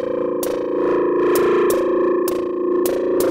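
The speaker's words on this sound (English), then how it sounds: "that the feedback is pulsating along with the sequence" A distorted Lyra-8 synth feedback drone throbs with rhythmic pulses driven by an Eloquencer sequencer, sharp bright hits repeating steadily as the feedback swells in time.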